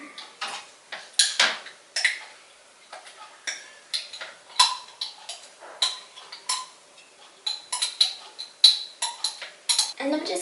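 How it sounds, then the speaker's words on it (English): A spoon stirs and scrapes thick baby food in a small dish while mixing gel food for otocinclus fry, giving repeated clinking taps and scrapes in an uneven rhythm, close and fairly clear. "not as liquidy as I thought, so I'm using a spoon"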